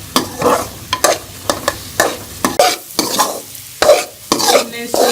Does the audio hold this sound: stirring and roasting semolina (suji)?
yes